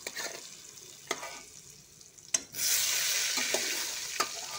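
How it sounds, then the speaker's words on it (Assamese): Potato pieces drop into hot oil left from frying eggs for an egg and potato curry; quiet stirring clicks give way to a sudden, loud, continuous sizzle that carries on to the end. "আলুখিনি আমি অলপ ভাজি ল'ম।"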